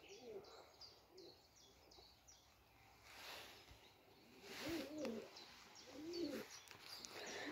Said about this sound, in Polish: gołębie jakoś dziwnie przerażone są, odkąd były, odkąd ten Budapeszt przyleciał.